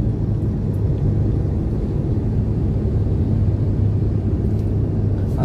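Toyota Innova climbing a hill under radar cruise control, its engine a steady low drone with road rumble heard from inside the cabin, constant and unbroken throughout.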